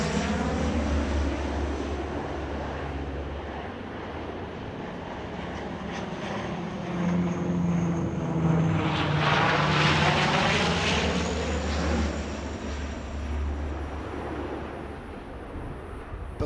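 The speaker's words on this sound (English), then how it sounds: "a quartet of aircraft repeatedly waterbombed the fire from above." Several propeller-driven firefighting aircraft make low passes while waterbombing a wildfire in Greece. A loud, continuous engine drone swells and fades, rising in pitch toward the middle of the pass before easing away, with no talk.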